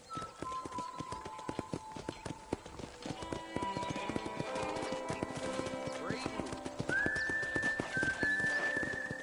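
In a ranch corral in the video game Red Dead Redemption, horse hooves clop irregularly while a horse whinnies and short whistle-like tones sound over quiet game ambience.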